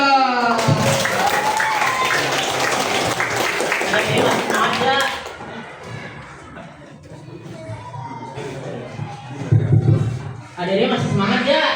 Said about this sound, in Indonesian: Tepuk dulu dong